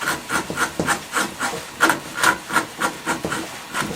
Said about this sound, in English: take that flat gouge again. I'm going to round this over underneath his nose